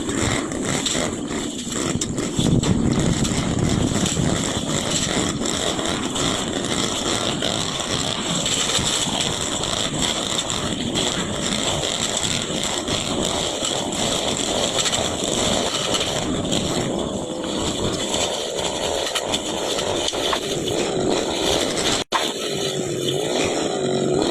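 A gasoline grass cutter engine runs continuously while cutting grass in an open outdoor space, a loud, buzzing two-stroke drone with a slightly wavering pitch throughout.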